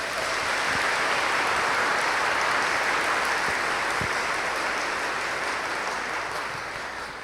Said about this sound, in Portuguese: dar uma grande salva de palmas para ele